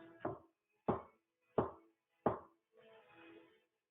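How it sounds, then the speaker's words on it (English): Knocks on a wooden door: three loud, sharp raps evenly spaced about two-thirds of a second apart, followed by a softer, scuffling rustle. No voices. "She knocked 3 times."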